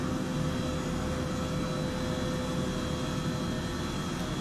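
An H135 helicopter lifts off in Microsoft Flight Simulator, its turbine and rotor making a loud, steady, broadband roar that holds constant for the whole stretch with no voices over it.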